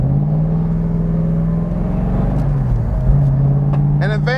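A 1970 Plymouth Hemi Cuda clone idling and rolling through a slow turn, its deep V8 rumble steady and close, the pitch dipping and rising slightly as it moves, with someone talking over the engine.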